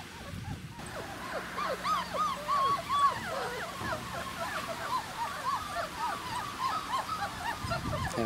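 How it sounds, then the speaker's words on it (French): Three-week-old Czechoslovakian wolfdog puppies in a new environment, yelping and howling in many short, rising, overlapping cries, a busy close chorus of young voices with a low steady hum beneath. "Alors les vocalises, je le répète encore, c'est typique des petits chiens loups qui découvrent un nouvel environnement."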